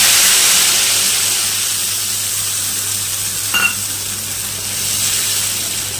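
Strained mustard paste tipped into a hot pan with tomato for a pabda fish curry, giving a steady loud hiss of frying that fades a little, with one brief clink midway.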